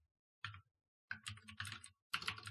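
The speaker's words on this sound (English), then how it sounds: "I'm a very inaccurate typer." Bursts of clicky typing on a computer keyboard during a music-production session, three separate flurries of keystrokes with short pauses between them, close and fairly quiet with no voices.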